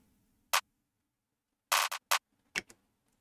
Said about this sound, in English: The next thing I added was this clap pattern.